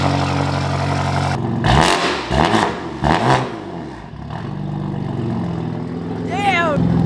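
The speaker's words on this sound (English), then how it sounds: "we're going to listen to this straight pipe twin turbo V8 M5." A straight-piped twin-turbo V8 BMW M5 idles with a deep burble, then revs in several sharp bursts before settling back, while people talk nearby.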